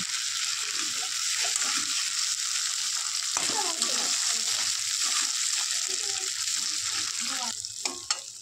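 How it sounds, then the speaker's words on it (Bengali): Spice masala with chopped tomato and slit green chillies fries in a pan, a continuous close sizzle broken by scraping stirs, with a voice talking softly over it at times. "টমেটো কুচি, ওটা কাঁচা লঙ্কা চেরা দিয়ে ভালো করে মশলাটা কষিয়ে নেব।"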